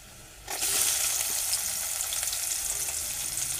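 Onion sizzles loudly in hot oil for a Marathi-style bitter gourd curry, a sudden hiss at the start settling into a steady, close crackle with no talking.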